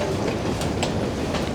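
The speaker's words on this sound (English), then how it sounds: "I think I've just unfortunately missed a train, though, going south" A train rumbles along the railway on a line in the South West Railway network, a steady close rail roar with faint clicking wheel noise throughout and no voices.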